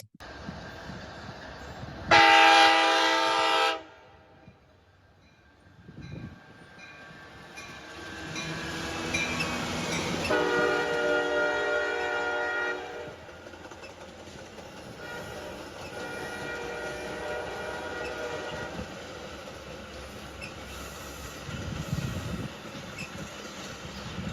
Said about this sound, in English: This is a westbound freight getting ready to leave, but something's coming up along it.